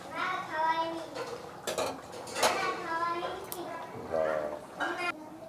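A metal cooking pot holding soybean curry comes off the stove, with clanks, scrapes and spoon-on-pot clatter scattered under ongoing talking.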